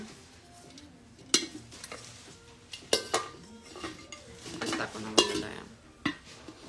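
Metal cooking pot handled during a shop's live product showcase, giving several sharp clanks and clinks spaced across the moment, close by, with low room noise and no talk.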